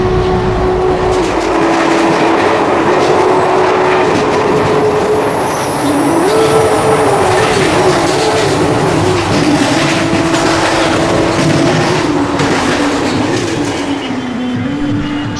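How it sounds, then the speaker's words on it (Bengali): A long-distance night train out of Howrah station, heard from an AC first-class carriage, gives a loud, continuous rumble of wheels on rails. A droning tone rises and falls over the steady roar throughout, with no talk. "হাওড়া স্টেশনে ট্রেন ছেড়েছিল অনেক রাত করে"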